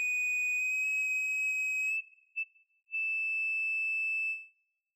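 No-input mixing board feedback tone pitched one octave higher, near its upper edge: a loud, pure whistling sine tone that holds, wobbles and briefly breaks off, then returns and drifts before cutting out.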